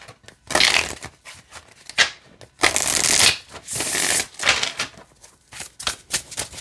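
Tarot cards riffle and shuffle in several quick bursts, crisp and close, with soft tapping and settling between the flurries.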